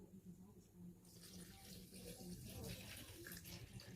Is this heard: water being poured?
yes